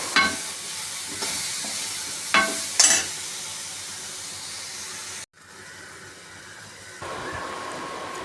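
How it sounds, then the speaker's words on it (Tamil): Cut Nendran banana pieces sizzle and fry in ghee, a steady crackling hiss with a few stirring scrapes, briefly dropping out before resuming near and clear. "அரிசி மாவு, கட் செய்த வாழைப்பழத் துண்டுகளை நெய்யில் வதக்கவும்"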